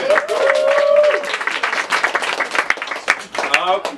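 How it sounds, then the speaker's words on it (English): Studio audience applauding a pair of quiz contestants, a dense wash of clapping that swells near and loud under a host's voice, with further talk and some whooping toward the end. "Let's have a round of applause for Amy and Stuart."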